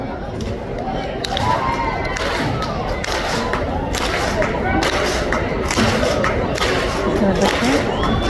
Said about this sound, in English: let's do a soul clap